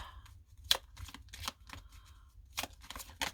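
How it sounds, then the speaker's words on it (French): A deck of cards shuffled at close range during a card reading, heard as a few quick riffling snaps and soft slides against a low background hum. "on mélange bien les cartes"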